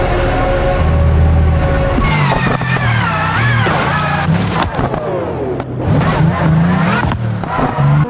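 A Pagani Utopia in BeamNG.drive roars and accelerates, engine pitch sweeping up and down through gear shifts, with tire squeal and crashing impacts mixed in, loud and close throughout.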